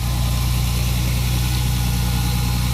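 Toyota Supra MA70 with a 2JZ-GE engine idling while still cold, a loud, close, steady rumble with an even low throb.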